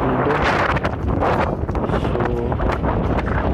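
Strong wind buffets the microphone in open desert with no trees or houses nearby, a steady broadband roar with gusty swells throughout, near and loud, with a brief bit of talk.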